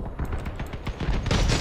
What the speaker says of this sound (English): Machine guns are good against hovers, especially these type of machine guns.